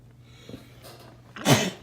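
A single sneeze bursts out near the end at close range, loud and sharp against a quiet room during a live nail tutorial.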